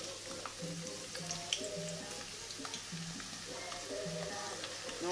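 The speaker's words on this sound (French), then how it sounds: "on fait revenir les oignons" Onions fry in heated oil for a bean dish, a continuous soft sizzle with faint stirring and light clinks, fairly quiet and close, with no voices.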